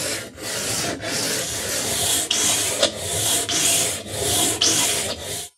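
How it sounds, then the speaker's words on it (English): Sandpaper wrapped around a flexible eraser rubs along a wooden shamisen neck in steady back-and-forth strokes, close and loud, with about ten rhythmic rasping passes and no talking. "Having the flexible eraser in the sandpaper will help us bring a nice curve."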